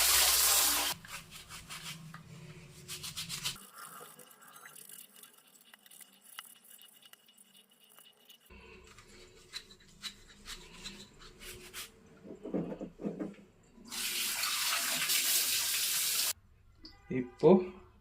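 Container scrubbed by hand and rinsed under running water without soap: intermittent rubbing scrapes and bursts of tap water, with a loud rush of flowing water near the end and quiet gaps between.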